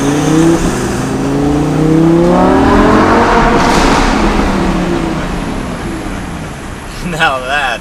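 Lamborghini Huracan LP 610-4 V10 engine and exhaust accelerating hard from a stop, rising harmonic sweeps climbing through gears, loud and close, with the revs easing off near the end; voices talk over it briefly.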